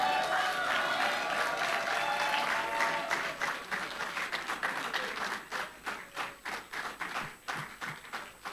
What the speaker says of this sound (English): round of applause for Mr. Akanimo Usoro